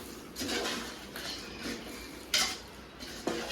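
Mutton being stirred in a cooking pot, a utensil scraping and clinking against the metal in several separate strokes with one sharper knock, moderately close, with no talking.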